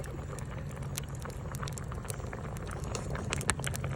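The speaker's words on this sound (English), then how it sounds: "just allowing everything to boil. The basil, the thyme, the okra, everything to boil together." A pot of okra, tomato, basil and thyme boiling over an off-grid cooking fire, with steady close bubbling and irregular pops and crackles and no talking.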